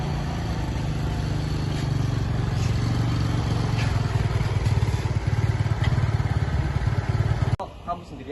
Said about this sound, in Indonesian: si Fajar pun mengambil motor dan pergi bersama Angel